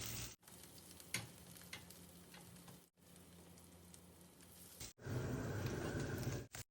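Food sizzles steadily in a pan of hot oil while fillings are prepared in a home kitchen, a continuous crackling hiss broken by brief pauses and growing louder and denser near the end.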